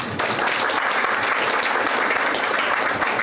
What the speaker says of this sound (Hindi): ताली बजाना था इसमें